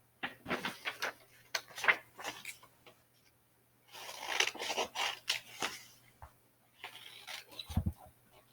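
Scissors snip through paper lapbook pieces about bats in quick bursts of crisp close cuts, grouped into several runs with short quiet pauses between them.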